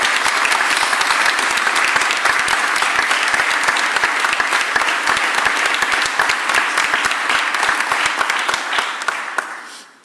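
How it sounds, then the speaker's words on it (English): A crowd applauds labor workers of District Council 33 at a mayoral event marking the end of a strike, loud sustained clapping from many hands that fades out near the end. "Give labor a round of applause."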